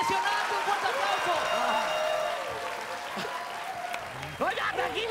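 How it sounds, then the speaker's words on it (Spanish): A studio audience on a Spanish-language TV variety show breaks into loud sustained applause and cheering, with excited voices and a musical tone layered over the clapping and a voice talking toward the end. "¡Un fuerte aplauso!"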